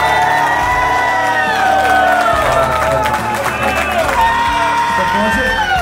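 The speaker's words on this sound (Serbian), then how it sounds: "Molim vas za jedan aplauz," Crowd at a Danube's Bikers motorcycle party cheering, whooping and howling with scattered clapping, loud and sustained throughout, with shouting voices mixed in.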